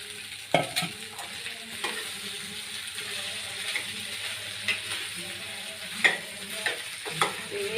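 Small potato pieces fry in a pan with lightly roasted chili and a little turmeric while a ladle stirs them, giving a low continuous sizzle with scattered clinks and scrapes, close and without speech.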